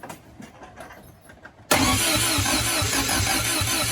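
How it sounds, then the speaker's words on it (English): Triumph TR7 engine turning over on the starter: a few quiet uneven sounds, then a sudden loud burst of steady rhythmic cranking that continues to the end, close up and with no voices. "Now, if I turn the car over a few times,"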